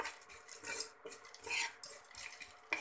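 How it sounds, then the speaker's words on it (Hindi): Chopped almonds and cashews roasting briefly in a pan, stirred with a utensil that scrapes and clinks against the metal in quick bursts, with only a faint sizzle beneath. "सेम पैन में हम जो ड्राई फ्रूट्स हमने काट के रखे हैं, बादाम और काजू, इन्हें भी हल्का सा भून लेंगे"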